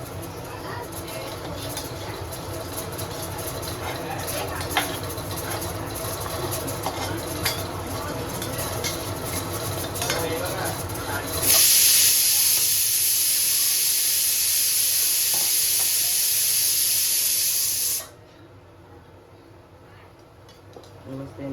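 A cooking mixture is tipped into a hot wok and bursts into loud, steady sizzling that runs for several seconds before cutting off, following quieter clinks and stirring in a home kitchen with voices talking in the background.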